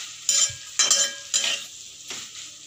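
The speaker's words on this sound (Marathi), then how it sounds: "आता हे चांगलं मिक्स करायचं आहे" Okra and potato curry stirred in a pan: four short bursts of scraping and sizzle, each a quick spatula pass, separated by brief quieter gaps.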